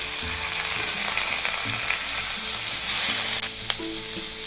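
Chopped onions and tomatoes sautéing in a pan for a smoked brinjal chutney, a close, steady sizzle with soft stirring scrapes throughout.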